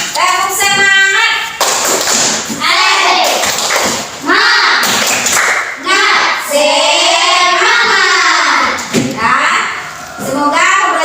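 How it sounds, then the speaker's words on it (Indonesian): A primary school class performs a rhythmic Indonesian spirit clap (tepuk semangat), with children's voices chanting in unison over steady, loud claps and taps that run throughout. "Tepuk semangat dulu."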